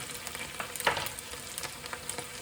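Two small onions go into a hot pan for a curry made from jarred sauce, giving a soft, close sizzle with a brief louder crackle as they land, then light spattering and faint stirring scrapes.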